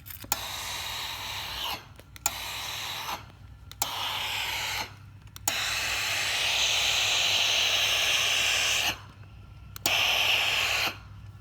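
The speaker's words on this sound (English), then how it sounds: "the steam's not necessary, it's just a good way of getting the heat into it really quickly" Bursts of steam hiss loudly from an iron heating thermoplastic, several long sprays broken by short silent pauses, with no talking.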